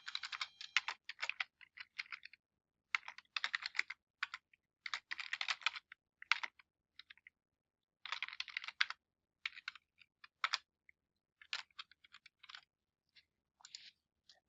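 A property address is typed on a computer keyboard, giving fast crisp key clicks in bursts separated by short pauses, close and quiet, alone without talk.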